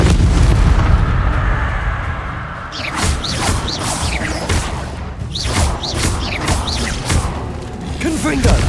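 Fiery Confringo spell blasts in the wizarding game Hogwarts Legacy, a run of loud booming explosions and impacts in quick succession, layered with whooshing spell effects and combat noise.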